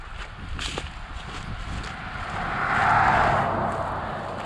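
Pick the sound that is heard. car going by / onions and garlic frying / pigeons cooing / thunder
car going by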